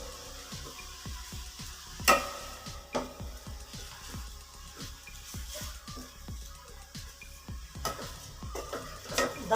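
Grated carrots for gajar halwa stirred in a pan over medium heat, with repeated soft scraping and tapping strokes in a steady rhythm, a faint sizzle beneath, and occasional sharper clinks of the utensil against the pan.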